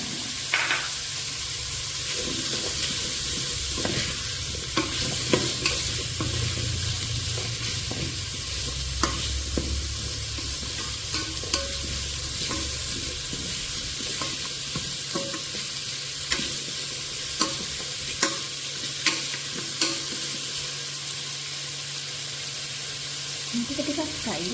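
Carrots and potatoes sizzle and fry steadily in a pan for rice cooking, with repeated scraping stirs and clicks of a utensil against the pan throughout, close and moderately loud.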